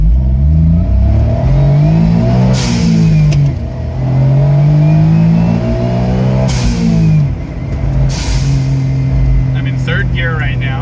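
An Autozam AZ-1 kei car with a Keisport ECU pulling away from a stop, its small engine revving up through rising gear pulls with brief dips between shifts, close and loud, with someone talking over it.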